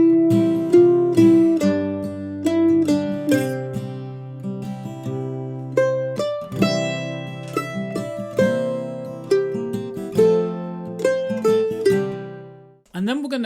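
Mandolin plays the beginner melody of the old-time tune Wildwood Flower alone, a steady stream of bright picked notes with a simple rhythm, close and clear throughout.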